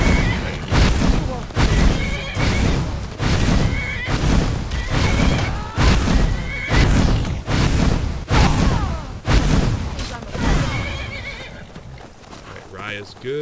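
Horses whinnying and neighing during a fight in the Skyrim video game, loud repeated cries over clattering hooves and heavy game combat sounds, with a voice speaking throughout.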